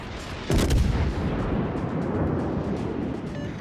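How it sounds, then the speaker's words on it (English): A broadside salvo from a heavy cruiser's naval guns in World of Warships booms out suddenly, a loud deep blast followed by a long rumbling tail that lingers with no talk over it. "Let a salvo fly at him."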